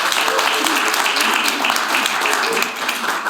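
Audience members at a symposium panel session applaud, giving a dense, even wash of clapping that holds steady for a few seconds.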